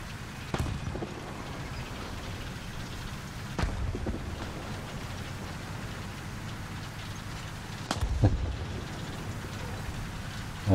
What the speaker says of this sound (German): Oh, es regnet in Köln.